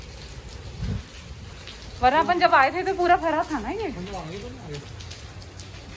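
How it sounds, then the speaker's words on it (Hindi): Heavy rain pours steadily outside a north Georgia mall, a continuous hiss that runs through the whole stretch while a nearby voice talks over it. "सी ये कितनी ज़्यादा बारिश है"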